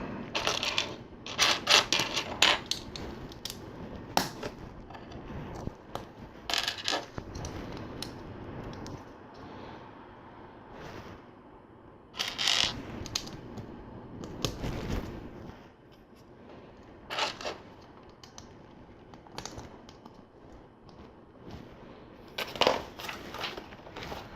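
Plastic LEGO Technic pieces from a Ninjago Lightning Jet set being handled and sorted, with repeated sharp clattering rattles in bursts separated by quieter pauses, close and loud.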